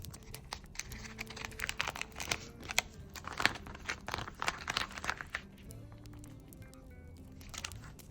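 Soft paper and plastic crinkling as a paper packet is stuck onto a page, with scattered small taps and rustles, close up and fairly quiet, with no voices.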